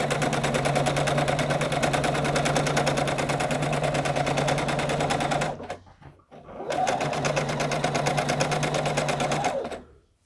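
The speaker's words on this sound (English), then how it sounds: "you're going to bring that top unit under your sewing machine" A sewing machine runs fast and close while chain piecing quilt blocks for a crib-size quilt, with a dense steady stitching rattle in two long bursts split by a short pause.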